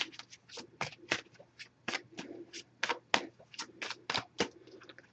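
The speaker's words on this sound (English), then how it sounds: "I'm going to give it a few more shuffles, and then we'll cut the deck and pull a card." Oracle card deck being shuffled by hand, a quick run of crisp riffling bursts in an uneven rhythm, close and fairly quiet with a low steady hum beneath.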